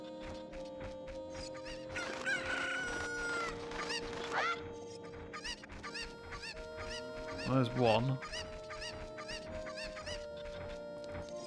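Cuckoo chickens in Zelda: Ocarina of Time on the N64 cluck and squawk in a busy, repeating pattern alongside the game's music, with one louder honking call standing out, while a person briefly speaks.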